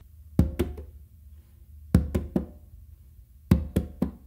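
Hand strikes on a conga ring out in three crisp groups of three, a bass stroke followed by finger taps, with even pauses between the groups. They are close, dry and played alone.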